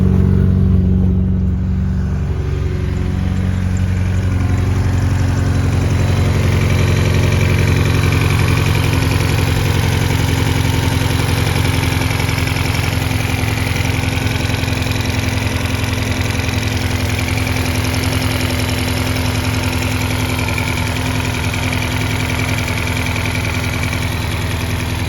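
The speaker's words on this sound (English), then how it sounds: "Yeah, the car's running good now." An Acura TSX with a swapped K24 four-cylinder engine idling after a Skunk2 fuel rail install, starting up in the first seconds, then settling into a steady, loud, close hum with an even low rumble and no talking.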